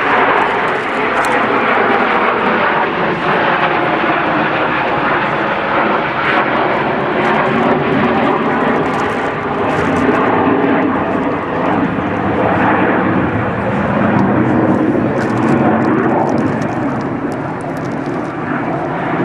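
A Hawker Hunter and a smaller Strikemaster jet fly an air display at an RAF airfield show, their engines giving a loud, steady, broadband roar that holds for the whole stretch with little variation.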